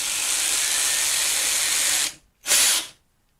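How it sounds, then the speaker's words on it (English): A power drill bores into a handmade part, a steady loud hissing whir running for about two seconds, cutting out, then a second short burst before stopping. "So I'm gonna drill this."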